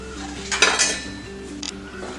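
Ginger, garlic and green chilli tip into a pan of sliced onions for Kerala chicken perattu, giving a short burst of clattering and scraping with a second quick knock, all over a steady low kitchen hum.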